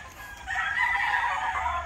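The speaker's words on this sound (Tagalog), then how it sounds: "may mga nakatali din po mga manok dito" Chickens tethered on a small farm among garden fruit trees cluck softly before a rooster lets out a loud, sustained crow nearby, with no talking.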